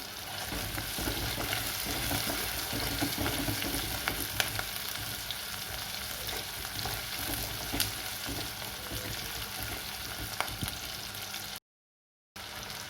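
Tomatoes and onions fry in a pan, a steady dense sizzle with occasional stirring clicks and scrapes, running continuously before a brief silent gap near the end.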